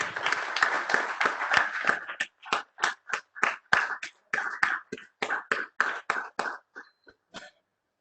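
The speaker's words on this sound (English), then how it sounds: "Please give him a good round of applause." A round of applause from a small group starts dense, then thins into scattered, distinct claps before fading out.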